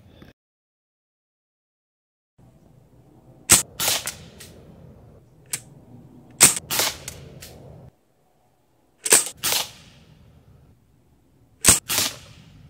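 Sig Sauer MCX/MPX .177 air rifle with an HPA conversion fires four sharp cracks, each with a short echoing tail, spaced a few seconds apart outdoors under faint background hum.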